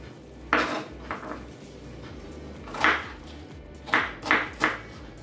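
Apple pieces being dropped into a bowl, several soft clattering knocks spaced unevenly, with a quick cluster near the end, fairly quiet and close.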